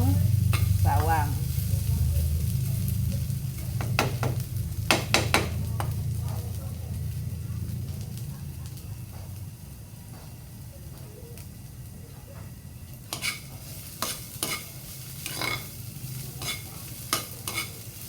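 Ginger fries in oil until browning for pinikpikan, a continuous close sizzle with scattered clicks and scrapes of stirring that grow busier toward the end.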